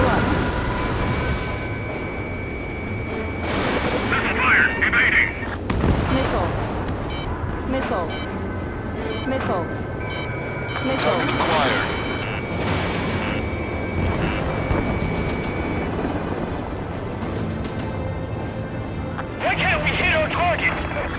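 Missile explosions and gunfire rumble through an Ace Combat 7 air battle, with repeated heavy blasts and bursts layered over jet noise and busy radio chatter throughout.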